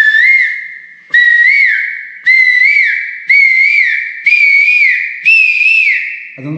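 A voice imitates a cuckoo, whistling six clear, evenly spaced rising calls, each about a second long, close and loud with silence between them.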